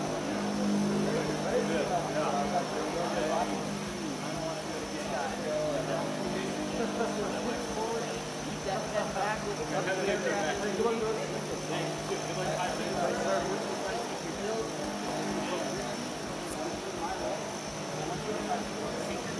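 A distant airplane taking off from a US Air Force base flight line drones steadily in the background, a low sustained rumble under faint wind and occasional voices.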